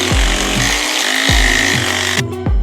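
Power tool whirring on motorcycle brake rotor bolts with a T30 driver, several short bursts that rev up and stop, loud and close with a brief quieter gap between bursts.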